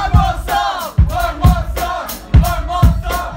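A concert crowd at a live show in Beijing chants a short phrase in unison, about five rhythmic shouts in a row, loud and close.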